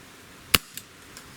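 A Gamo PR-776 air pistol fires a Diablo Basic pellet once, a sharp, loud crack that stands alone in quiet, followed by two fainter ticks.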